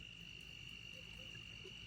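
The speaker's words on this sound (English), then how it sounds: "The crickets and frogs are going crazy from the rain" Crickets and frogs calling at night after rain: a steady high insect trill over a faint low chorus, distant and quiet, with no talk.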